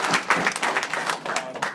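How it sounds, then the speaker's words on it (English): A steady wash of audience applause fills a Michigan political delegate gathering, many hands clapping at once without a break, loud and close. "so I give you all a round of"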